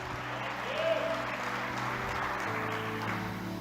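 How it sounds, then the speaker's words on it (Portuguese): A church congregation applauds during a worship service, with faint, soft clapping blended under steady music and background voices. "Aplaude o teu Deus, a igreja aplaude."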